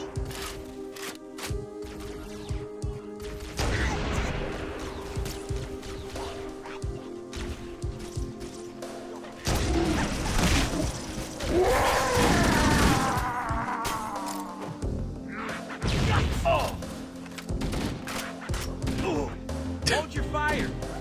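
Gunfire in Halo: Combat Evolved Anniversary, with bursts of rapid shots and blasts crowding the mix, louder stretches midway, while voices talk over the chaotic firefight.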